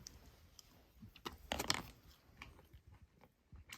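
A few crisp crunching bites on food, close up, with soft chewing sounds between them and no talking.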